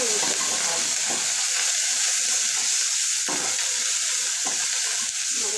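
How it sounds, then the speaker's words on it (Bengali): Ginger, garlic and onion paste frying in a pan, a steady loud sizzle with occasional stirring scrapes, no talking. "কাঁচা গন্ধটা দেওয়ার জন্য আমি পেঁয়াজটাও আপনারা ভেজে নিচ্ছি"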